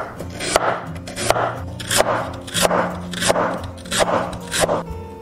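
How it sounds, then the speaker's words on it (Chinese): Peeled lotus root being thinly sliced with a knife on a board, a regular series of crisp crunchy cuts about every half second to second, close and clear with no talking. "首先把莲藕削皮，切薄片，尽量越薄越好。"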